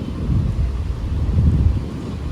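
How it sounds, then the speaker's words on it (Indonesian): A steady low rumble of drizzling rain and wind at Merak harbour fills the clip, a dull continuous wash with no voices. "Dan ini cuacanya gerimis, hujan."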